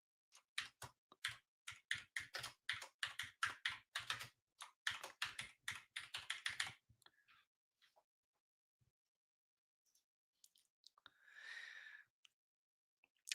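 Fast, crisp keystrokes clatter on a computer keyboard in a rapid burst, then slow to a few isolated clicks before a short soft swish near the end; quiet overall.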